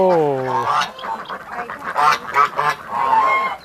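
Ducks quack and honk in a noisy cluster, several calls overlapping in quick bursts, fairly close and loud.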